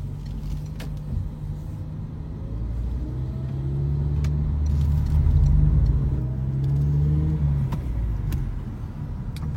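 A petrol car with a manual gearbox accelerates, a deep engine rumble that swells in the middle and eases off again, steady and fairly close throughout.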